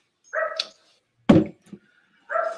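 Guard dogs at home in the morning bark in three loud, close, separate bursts with short silences between them.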